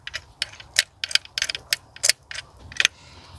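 A ratchet clicks in quick, uneven bursts while threading a spark plug into cylinder 1 of a BMW F25 with the N20 engine, the sharp metallic ticks close and fairly quiet with short pauses between strokes.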